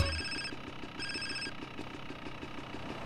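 Phone ringing in the video game GTA, a repeating electronic ring in two short bursts over a low steady game background, clear and fairly close.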